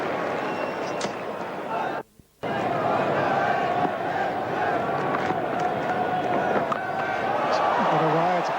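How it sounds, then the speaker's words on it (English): A cricket crowd roars at the Perth ground in a 1996-97 Australia v West Indies match, a loud, sustained wash of cheering that breaks off for a brief gap and then swells back in. "The crowd roaring here."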